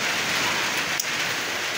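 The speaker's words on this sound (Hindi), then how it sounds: "हवा भी बहुत तेज़ चल रहा है।" Rain pours steadily during a rainy-day cow milking, with strong wind, a dense close hiss of falling drops and one brief sharper patter near the middle. No voices are heard.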